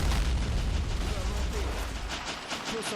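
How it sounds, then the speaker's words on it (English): Artillery fire and shell explosions in the World War I video game Battle of Empires 1914-1918 rumble heavily, with deep booming blasts and crackling debris filling a loud, chaotic battlefield soundscape. "the artillery just blew up those guys"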